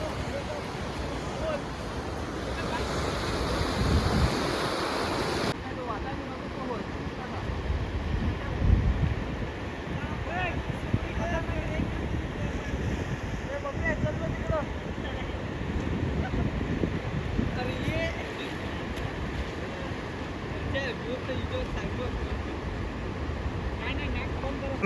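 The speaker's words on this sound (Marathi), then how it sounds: "पाणी बघा कसं पडतं." River water falling and splashing at an outdoor swimming spot where people jump in, a steady broadband rush with wind buffeting the microphone and voices faintly mixed in.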